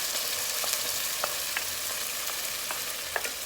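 Ginger, garlic, green chilli and peeled plum tomato frying in a hot pan, giving a steady close sizzle with scattered sharp crackles and pops throughout, with no voices.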